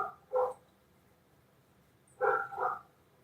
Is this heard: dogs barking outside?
yes